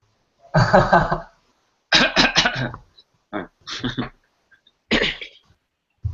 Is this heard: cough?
yes